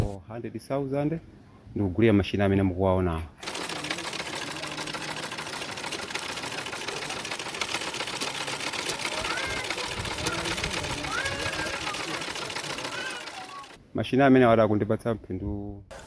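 A sewing machine runs steadily for about ten seconds with a continuous rattling whir, with a voice speaking briefly before and after it.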